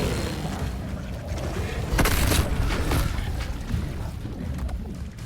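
The Incendio fire spell is cast in Hogwarts Legacy, a rumbling, crackling burst of fire with a sharper booming onset midway over a dense, noisy background.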